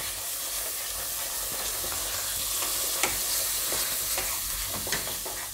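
Yogurt is stirred into a pan of raw tomato curry, giving a steady low sizzle and hiss with a few soft spoon scrapes and no voices.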